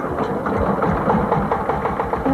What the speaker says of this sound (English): Decompress and start the engine.